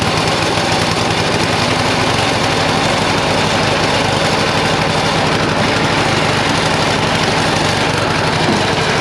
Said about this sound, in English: a snowblower that no matter what gear you put it in will only go in one direction